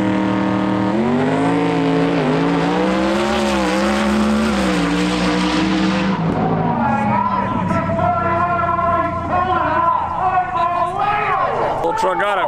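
Drag race cars, including a truck and a Dragon Drive car called the Snot Rocket, launch in a small tire final. Loud engines roar and rise in pitch, with a second surge of revving partway through, under a talking voice.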